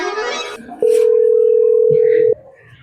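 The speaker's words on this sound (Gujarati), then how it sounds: "એક કામ કરું, વિરાજનો ફોન કરું ફટાફટ." A phone call being placed: after a brief spoken voice, one long steady ringback tone sounds for about a second and a half, loud and alone, followed by quieter background noise.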